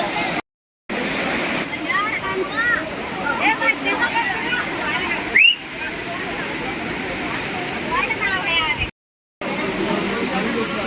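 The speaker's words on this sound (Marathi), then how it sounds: "धबधबा बघायला" A steady roar of rushing, falling water from Amboli waterfall fills the scene, with voices talking over it and a couple of brief dropouts.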